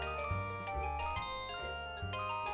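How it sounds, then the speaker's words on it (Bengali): A melodic phone ringtone plays alone in a cartoon scene, a repeating electronic tune with steady rhythmic pulses at moderate loudness and no voices over it. "বল্টুর ফোন, আবার কি হলো কে জানে।"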